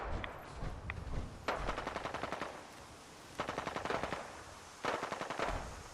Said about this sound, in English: I'm feeling the raiders and the gunners are shooting at each other.